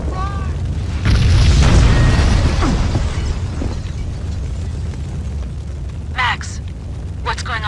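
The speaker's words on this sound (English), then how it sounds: "The building's blowing up." In the Max Payne video game, a building packed with explosives blows up with a deep, booming rumble that swells and rolls on beneath the scene, while voices speak over the noise.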